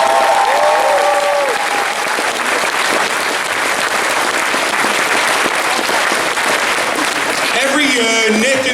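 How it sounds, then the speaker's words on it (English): A large audience at a closing ceremony claps loudly and continuously for the Toy Foo team, a dense wall of applause. A voice is briefly audible at the start, and a short musical sting sounds near the end. "Give them a round of applause"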